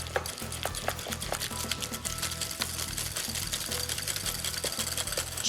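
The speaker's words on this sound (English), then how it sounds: "Two nice tablespoons of mascarpone cheese. Whisk that into the egg yolks." Mascarpone cheese being whisked into egg yolks, a steady rapid rhythmic beating of a whisk against a bowl, close and continuous, with faint kitchen noise behind.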